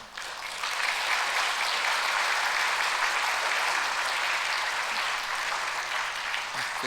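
A church congregation claps to welcome the mayor at a charity fundraiser for low-income neighbours, the applause swelling quickly and holding at a steady, full level before easing slightly at the end.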